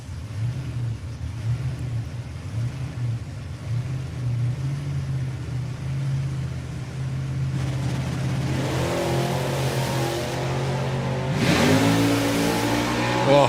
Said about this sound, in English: It all depends how Nick's car launches.